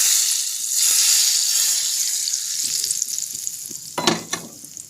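A loud, close sizzle as spices hit hot oil for a tempering for Lahori chickpeas, hissing strongly then gradually settling, with a brief clatter of stirring near the end.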